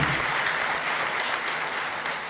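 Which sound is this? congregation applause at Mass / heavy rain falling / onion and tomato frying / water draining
congregation applause at Mass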